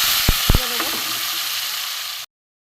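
Chopped onion, garlic, tomato and green chilli fry in hot oil with a loud, steady sizzle close by. A few light clinks sound early on before the sizzle cuts off abruptly.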